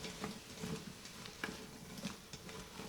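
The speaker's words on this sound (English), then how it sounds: "we're going to let our vegetables saute for about 3 to 5 minutes" Zucchini and other vegetables sauté in an Instant Pot with a steady, soft sizzle and light crackle, quiet and continuous with small pops and stirring clatter.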